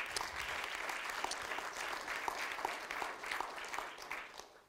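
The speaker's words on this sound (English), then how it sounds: "huge round of applause for our sponsors" Sustained applause from a tech conference crowd, dense steady clapping at moderate distance that fades slightly toward the end.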